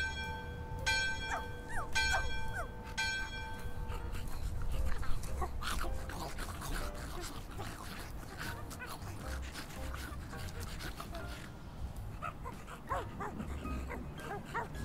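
Dogs bark, yip and whimper in the video game My Friendly Neighborhood, repeated calls over a steady game soundtrack, with bright tonal chimes early on.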